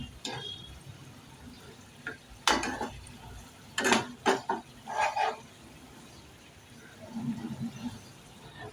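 Stuffed brinjals being turned over in a pan, giving a few clattering metallic scrapes and clinks of a utensil against the pan, with quiet gaps between them.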